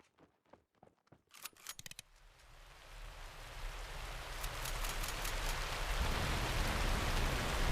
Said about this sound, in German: Ja, nochmal Regen.